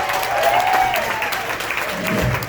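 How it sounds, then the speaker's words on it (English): An audience applauds a big band at a Big Band Monday Broadway tribute show, with sustained clapping and a held instrumental tone gliding underneath, then a low rumble near the end. "Give me a nice round of applause, ladies and gentlemen."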